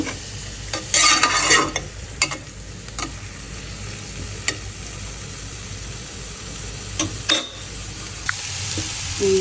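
Potatoes being stir-fried in a pan, a steady frying sizzle broken by repeated clattering spatula stirs and scrapes against the metal, close and fairly loud.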